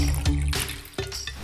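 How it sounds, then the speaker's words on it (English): Red juice poured into a bowl for a Halloween craft, a short liquid splash and gurgle in two close bursts, the second starting abruptly after a brief pause. "Start by pouring red juice in a bowl."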